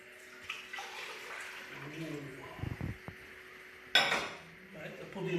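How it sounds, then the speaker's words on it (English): Milk is poured into a pan while making eggnog. A brief gush of liquid splashes in after some light clinks of metal cookware, and a voice is faintly present. "I take a pan, I put in my milk."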